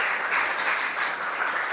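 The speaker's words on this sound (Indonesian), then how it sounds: "Tepuk tangan untuk semuanya." Classroom students applaud together in a steady, even burst of clapping lasting a couple of seconds.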